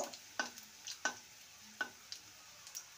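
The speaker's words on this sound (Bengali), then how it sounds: "ফোড়নটাকে কয়েক সেকেন্ড ভেজে নেব" Half a teaspoon of whole cumin seeds and one dried red chilli frying in about a teaspoon of hot oil. A faint, steady hiss is broken by a few sparse, sharp crackling pops.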